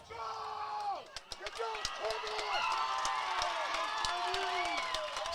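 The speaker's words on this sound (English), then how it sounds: "Skyview cheering now." Crowd of Skyview fans cheering at a high school boys lacrosse game, a steady roar of voices with scattered whoops and sharp stick and ball knocks, heard from the sideline beneath running talk.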